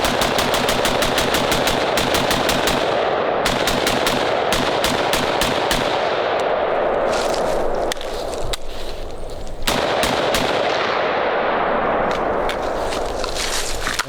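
A Sig Spear LT 5.56 rifle firing rapid strings of shots, loud and close, with brief gaps between bursts over about fourteen seconds.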